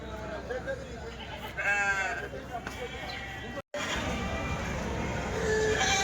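Goats bleat in a few wavering calls at a busy weekly goat market in Kadiri, heard under steady crowd chatter and nearby talking.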